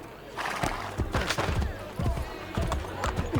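Horse hooves clip-clopping at a steady trot through the city streets in Assassin's Creed Brotherhood, moderately close, with a whinny and other game sounds mixed in.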